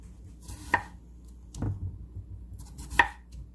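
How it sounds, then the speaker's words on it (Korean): A knife chops potatoes and carrots into cubes on a board for a potato salad, giving three sharp, separate chops spaced a second or two apart, close by, with no talking. "감자하고 당근은 깍둑썰기 미리 해놨는데 감자 2알하고 당근 조금 하고 썰어 보도록"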